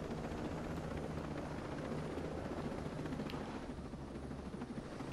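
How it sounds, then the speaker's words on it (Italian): A helicopter landing in the video game Ghost Recon Breakpoint, its loud, steady rotor thrum and engine whine filling the scene continuously and close, with no talk. "E poi è pure cazzuto questo elicottero"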